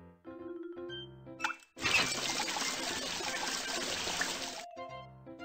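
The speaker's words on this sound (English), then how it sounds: "Turn on the faucet." In the Baby Panda Care game, a faucet is turned on and water gushes steadily for about three seconds, loud and continuous, between short cheerful musical chimes.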